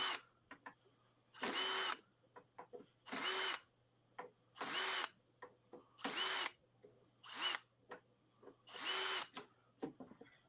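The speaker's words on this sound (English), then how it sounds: "you're drilling behind a black screen" A power drill bores into panels for a RatRig V-Core 3 3D printer in about seven evenly spaced, loud whirring bursts, separated by short pauses with faint clicks and a low steady hum.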